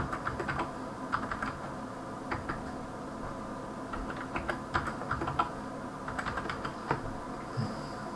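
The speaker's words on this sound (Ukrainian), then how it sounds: "Прописуємо свій логін і два рази дублюємо пароль." Login and password being typed on a computer keyboard while a TP-Link TL-WR940N router is set up, heard as irregular bursts of close, light key clicks with short pauses between them, no voices.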